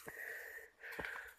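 Heavy, labored breathing from a hiker climbing uphill on a mountain trail in San Mateo, with two long, wheezy exhalations close to the microphone.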